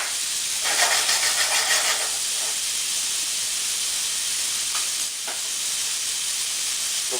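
Pears sizzling in a very hot frying pan, a steady loud hiss throughout with brief crackling swells as the fruit settles, no talking over it.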